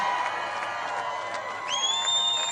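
Large crowd at a Trump rally in Mosinee, Wisconsin cheering steadily, with scattered whoops and a rising shrill whistle near the end, voices blending into a bright sustained roar.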